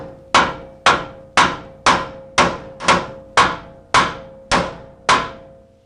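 Ten evenly spaced hammer blows on a Toyota 4Runner front suspension part, each a loud ringing metallic strike with a short decaying tail, close and steady in rhythm.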